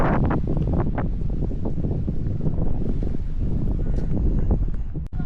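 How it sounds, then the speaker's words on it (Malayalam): A light breeze blows steadily in the open air near Sonamarg in Kashmir, a continuous soft wind rush with mild microphone buffeting and rustle throughout, loud and close, with no talking. "ചെറിയൊരു കാറ്റുണ്ട് കേട്ടോ. ഇളം തെന്നൽ."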